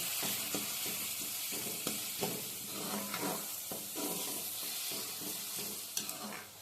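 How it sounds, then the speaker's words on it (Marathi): Chopped onion fries in a pan for a green-chilli cabbage dish, producing a soft, steady sizzle with light stirring scrapes and occasional pops. "कांदा आहे आपल्याला मऊसूज होईपर्यंत फ्राय करायचं आहे"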